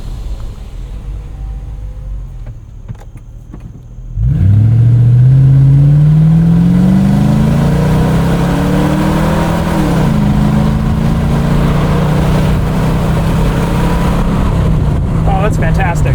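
A 2000 Lexus LX 470 with about 300,000 miles and a muffler delete, windows down, idles quietly and then accelerates hard, its loud, raw exhaust rising steadily in pitch and holding a deep roar through the shift.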